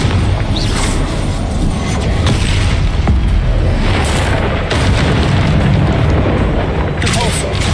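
Fiery Confringo spell explosions in Hogwarts Legacy combat, loud continuous booming and crackling blasts with dense rumbling effects, layered under spoken spell callouts.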